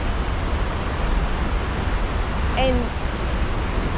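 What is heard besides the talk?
flooded stream rushing near Lost Creek Falls and Cave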